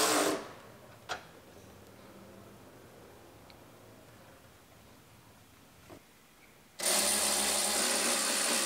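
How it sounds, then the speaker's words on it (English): A power tool bolts brackets onto the sides of a 2019 Ford Explorer, whirring briefly at the start and again loud and steady near the end, with a quiet stretch, a sharp click and a soft knock in between. "I'll bolt the brackets on the sides."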